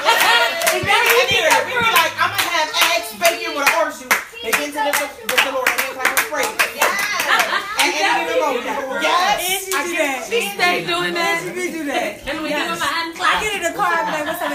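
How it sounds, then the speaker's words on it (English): A church congregation claps their hands in praise, sharp rhythmic claps packed closely and loud throughout, mixed with chatter and some laughter among the crowd. "Begin to give the Lord a hand clap of praise."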